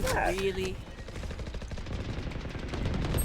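Gunfire in the Valorant shooter game, rapid bursts of shots up close while a voice talks over part of it.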